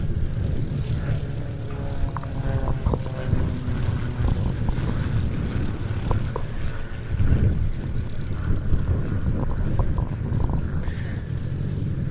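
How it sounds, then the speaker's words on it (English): A Mudry CAP 232 aerobatic propeller plane performs unlimited aerobatics at an airshow at Duxford, its engine droning loudly and continuously with shifting pitch as it maneuvers, with no talk. "This is Diana Britton in her Moudry Cap 232"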